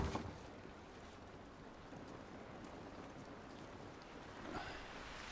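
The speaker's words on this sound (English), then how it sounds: "This rain ain't gonna do us any good." Steady rain hisses and patters outdoors in The Last of Us video game, a dense, even wash of falling water heard alone at low volume.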